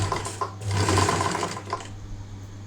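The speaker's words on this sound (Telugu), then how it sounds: "నీట్గా మిడిల్ స్టిచ్ చేసుకుంటూ మిడిల్లోకి రాగానే నీడిల్ ఆపుకొని స్టిచ్ చేసుకోవాలి." A sewing machine stitches a prince-cut blouse with a steady, close whir that runs for under two seconds, then stops abruptly and leaves near silence.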